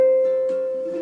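A single ukulele string squeezed firmly and picked with the thumb, ringing out clean and sustained as one clear note that slowly decays.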